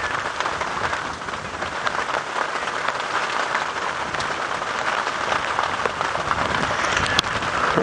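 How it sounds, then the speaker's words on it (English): Rain falls steadily on a safari drive in the African bush near a resting male lion, a dense, even hiss of drops close by that fills the whole stretch, with no talking. "It's nice to sit with this male even though it is raining."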